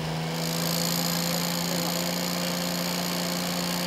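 A VF63AS/VF53AS machine runs its engine after starting, holding a steady, even droning hum with a constant pitch and no change in loudness, with no voices.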